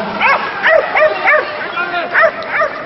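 Several dogs at a flyball competition give a run of excited, high yips and barks, six or seven bursts in quick irregular succession, close and loud.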